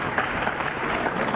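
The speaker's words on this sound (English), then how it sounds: "They gave him an applause there." Crowd applauding a player at a Mosconi Cup pool match, a steady wash of clapping from the arena audience that holds evenly for the whole moment.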